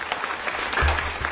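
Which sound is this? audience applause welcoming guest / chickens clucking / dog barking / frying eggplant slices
audience applause welcoming guest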